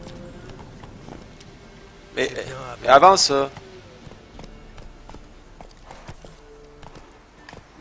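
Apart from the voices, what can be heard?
horse hooves clip-clopping in video game Witcher 3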